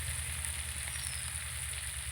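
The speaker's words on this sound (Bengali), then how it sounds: "ঢেকে ঢেকে আলুটাকে ভালো করে ভেজে নেব।" A steady, even sizzle of potatoes frying in a covered pan, soft and continuous with no breaks.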